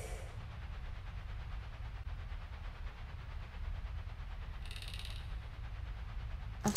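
A train idles at a station in the video game Secret Files: Tunguska, a low, steady mechanical rumble with a faint hiss partway through, quiet and unbroken.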